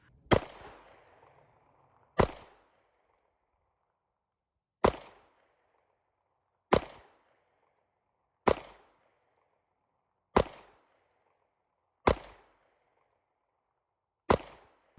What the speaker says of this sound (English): Again, from double action, I'll be shooting from double action, 7 yards.